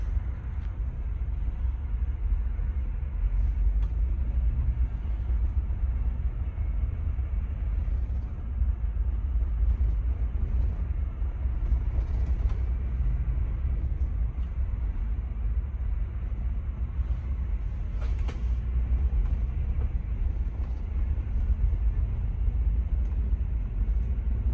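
Two MTrans Volvo B11R double-decker buses run in convoy on the Blitar to Jakarta route. Their engines make a steady, loud low rumble that holds for the whole stretch, with no voices over it.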